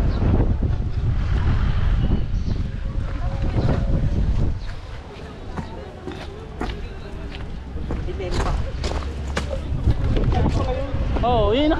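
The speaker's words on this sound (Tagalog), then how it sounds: "Pag naman dito sa taas, lakas ng hangin, di ba?" Strong wind roars and buffets the microphone on a hilltop at Monte Maria in Batangas, a steady, loud rush throughout while people talk over it.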